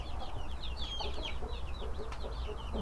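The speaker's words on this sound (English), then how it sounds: "we have 7 ducklings from our first hatch" Newly hatched ducklings under a red heat lamp give a busy, continuous stream of high, thin peeps that overlap one another, close and steady over a low background hum.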